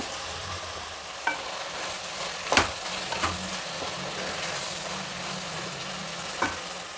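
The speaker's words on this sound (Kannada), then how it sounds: "ತರಕಾರಿಗಳೆಲ್ಲ ಎಣ್ಣೆಯಲ್ಲಿ ಸಾಕಷ್ಟು ಫ್ರೈ ಆಗಿದೆ ಇವಾಗ ರುಬ್ಕೊಂಡಿರೋ ಮಿಶ್ರಣನ ಇದರಲ್ಲಿ ಸೇರಿಸ್ತಾ ಇದ್ದೀನಿ ಮಸಾಲೆ ಮಿಶ್ರಣ" Ground masala mixture being stirred into vegetables frying in oil for a protein-rich pulao, a steady low sizzle with a few sharp spoon scrapes and knocks against the pan, no voices.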